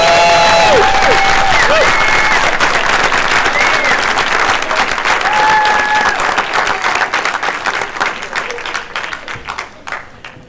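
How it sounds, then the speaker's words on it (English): An audience at a school board meeting bursts into loud, sustained applause and cheering, a dense patter of many hands that gradually fades toward the end, with a few shouts and whistles mixed in. "give them a big cheer"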